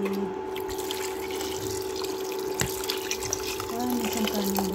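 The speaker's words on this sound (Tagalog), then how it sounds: "Tapos lagyan ko siya ng tubig." Tap water pouring into a cooking pot to prepare rice, a steady running splash over a constant hum with small clinks in a kitchen setting.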